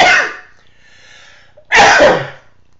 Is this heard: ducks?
no